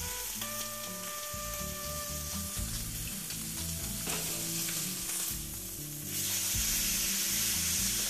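Beef sears on a hot griddle with a continuous sizzle and crackle, rising louder in the final seconds, with background music underneath and no talking.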